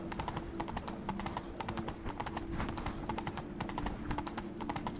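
Roach, a horse in The Witcher 3, trotting with steady, rapid hoof clip-clops that run continuously at moderate loudness, with no talk over them.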